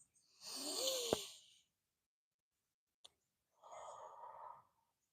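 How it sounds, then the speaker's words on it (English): Deep yoga breathing, close and quiet: a long airy inhale, a short click, then a slower audible exhale after a pause. "2 more breaths"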